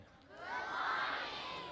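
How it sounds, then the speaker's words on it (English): A festival audience welcomes a storyteller with a brief swell of crowd cheering and applause, rising after a moment and holding steady, with scattered whoops over the noise. "so let us give a warm welcome to Tim and a round of applause for Tim."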